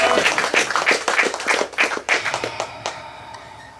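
An audience claps in a quick, uneven patter of individual hand claps, fairly close and lively at first, then thinning out and fading over the last second.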